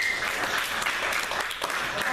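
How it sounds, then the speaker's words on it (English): Audience clapping at a special city council meeting on water fluoridation during public comments, a steady dense patter of many hands filling the room for about two seconds, with some talk mixed in. "Let us not have clapping"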